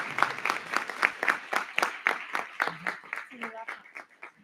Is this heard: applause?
yes